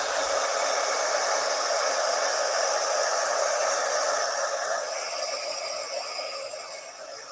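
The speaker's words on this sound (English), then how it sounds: "And now I'll blast it again with my heat tool." A heat tool blasts hot air onto a handmade Halloween craft card, giving a steady, loud hissing whoosh that runs alone and without pause, easing slightly toward the end.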